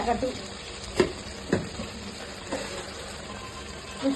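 Fish curry simmers in oil while a spoon stirs it, a soft continuous bubbling sizzle broken by a few distinct scraping clinks against the pot.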